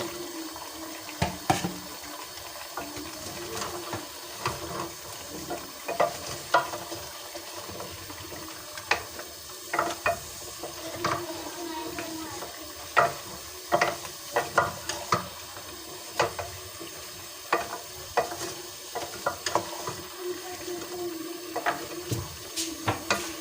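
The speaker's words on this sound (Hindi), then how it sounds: "गाजरों को भी मैंने 1 से 2 मिनट फ्राई कर लिया, यानी कि भून लिया है इनको मैंने।" Carrots and potatoes fry in a pan with a continuous hissing sizzle, punctuated by frequent sharp clicks and scrapes of stirring throughout.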